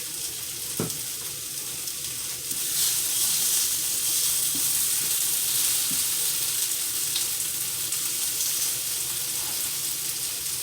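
Fajita meat sizzles steadily on a hot electric griddle, a continuous crackling hiss with occasional scrapes and taps of a utensil.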